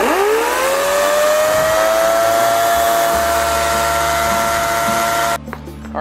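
An EGO 14-inch cordless electric chainsaw spins up with a rising whine, then holds a loud, steady motor hum for about five seconds before cutting off abruptly near the end.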